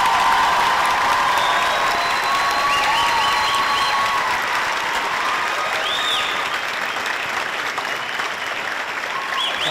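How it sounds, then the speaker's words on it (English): Sustained audience applause at a Class 169 graduation at the Golden West College Regional Criminal Justice Training Center, dense clapping that stays loud and steady throughout, with a few whistles and cheers rising above it. "please join me in a final round of applause for Class 169"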